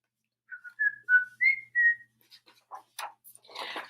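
A person whistles a short melodic tune of about five clear sustained notes, followed by a few faint scattered clicks and rustles near the end.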